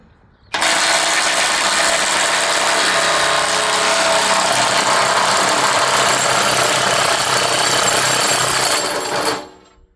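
A DeWalt DCF964 cordless impact wrench hammers a nut loose, one continuous loud, harsh rattling burst lasting about nine seconds before cutting off abruptly.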